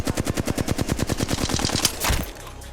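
A rapid burst of automatic weapon fire in Apex Legends, about twenty evenly spaced shots in a steady rhythm, loud and close, ending abruptly with a short mechanical clatter.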